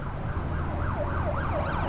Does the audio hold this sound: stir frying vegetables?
no